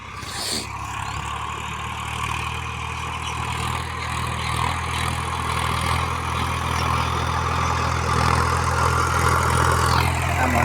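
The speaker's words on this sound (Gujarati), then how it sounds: "આ ટ્રેક્ટર જુઓ" A tractor idles in a wheat farm field with a steady, low, rumbling drone held evenly for about ten seconds and fairly close.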